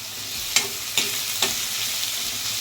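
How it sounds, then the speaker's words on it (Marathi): Onions for a Konkani-style prawn masala sizzle steadily in a hot pan, with a few distinct scraping stirs punctuating the constant frying hiss. "कांद्याचा आपण चांगला मसाला छान भाजून असा बनवणार आहे"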